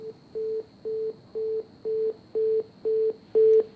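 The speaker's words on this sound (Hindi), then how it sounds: "फोन कट गया लगता है, उन तक आवाज़ पहुंच नहीं पा रही।" Telephone busy tone after a call is disconnected, eight short even beeps at a steady rhythm, clear and close with no talk.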